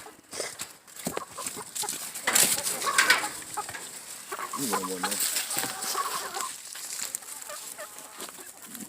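Chickens in a homestead coop with compost bedding cluck and murmur close by, irregular calls rising and falling over a low background.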